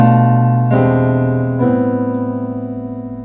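Three sustained piano chords in a common progression change one after another, each ringing out full and loud with no voices.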